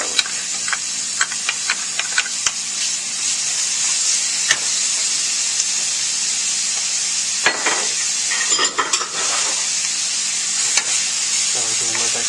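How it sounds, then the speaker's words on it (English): Bacon, onions and garlic fry in a pan for a coconut curry crab dish, giving a steady loud sizzle throughout with occasional stirring clicks and scrapes. "frying bacon and onions."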